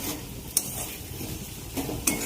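A spatula stirs a sizzling paste of ginger, garlic, chopped tomato, salt and turmeric in a pan for banana flower curry, a soft frying hiss punctuated by two sharp metallic scrapes or taps, close and without speech.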